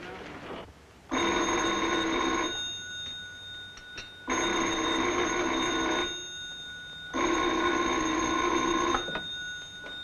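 An old-fashioned telephone bell in a vintage comedy film rings three times in long, loud bursts with short quiet gaps between them, close and clear, with no talking over it.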